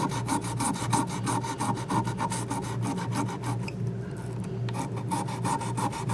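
Guitar frets on a Partscaster being rubbed clean of dirt, rust and corrosion, a close, steady back-and-forth rasping scrub that repeats in a fast, even rhythm, with a brief pause partway through and no talking.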